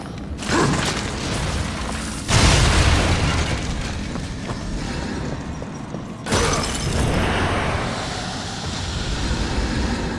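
Bomb explosions in Darksiders Warmastered Edition, with a couple of loud, broad booming blasts rising out of a dense, rumbling game soundscape and lingering in a noisy tail.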